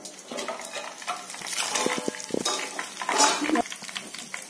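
Curry leaves hit hot oil with mustard seeds while making puliyogare gojju, giving a close crackling sizzle with metallic clinks and clatter of a plate and utensils.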